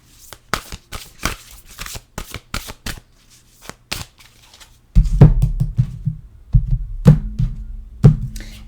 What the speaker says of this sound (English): We'll get an oracle card here.